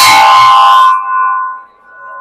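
Hardened steel blade on the steel wheel of a Najrana chaff cutter machine is struck once and rings like a bell, a loud clear tone that decays slowly into a sustained hum.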